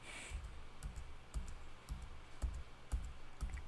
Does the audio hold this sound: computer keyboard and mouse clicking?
yes